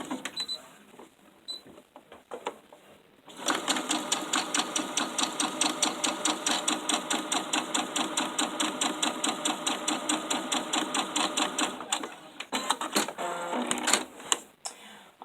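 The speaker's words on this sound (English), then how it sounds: "I'm going to sew right straight across." A sewing machine stitches straight across a small fabric gift sack, a close, rapid rhythmic whirring that starts after a quiet moment and runs steadily for about nine seconds before slowing and stopping.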